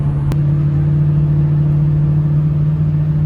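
A Ford 6.0 Powerstroke diesel pickup cruising at highway speed, its exhaust a steady low droning rumble heard from inside the cab, constant and fairly loud with one brief click near the start.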